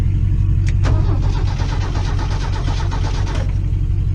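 An old Ford crew cab truck's engine cranks over steadily and loudly for several seconds with a rhythmic starter churn, close by and with no talking.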